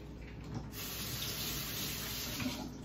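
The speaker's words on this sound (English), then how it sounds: "I just rinsed a sauce packet." Tap water runs steadily from a kitchen faucet while a sauce packet is rinsed beneath it, a continuous close splashing hiss with no talk.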